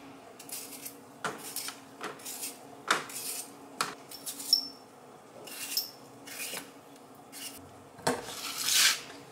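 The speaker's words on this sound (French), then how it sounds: "on va commencer par éplucher 700 g de pommes de terre" Potatoes being peeled by hand in a kitchen, a series of short close scraping and rasping strokes in an irregular rhythm, with occasional light clinks of utensils between them.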